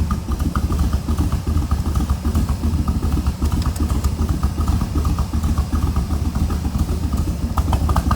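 A Factory Five replica of a 1965 Shelby Cobra MKIII idles right after a cold start, its engine giving a loud, steady, close rumble with a lumpy clatter running unbroken throughout.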